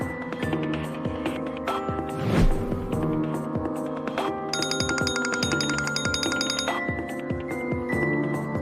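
A telephone call rings on unanswered in a Chinese drama scene, a repeated electronic ringtone with bright, bell-like tones sounding steadily and close for several seconds, with no talking over it.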